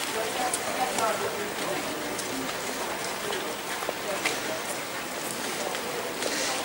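Steady rain hisses throughout at an outdoor wedding, with scattered drops tapping close by; a faint murmur of voices sits underneath.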